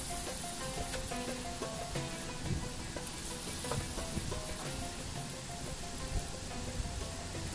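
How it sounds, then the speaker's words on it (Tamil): Small coconut and urad dal bondas fry in hot oil with a steady, crackling sizzle and scattered pops. The noise is close and constant throughout, and no one speaks. "இப்போ ஆயில் சூடாயிருச்சு, சின்ன சின்ன போண்டாவை போட்டு ஒன் பை ஒன்னாக பொறிச்சு எடுத்துக்கலாம்"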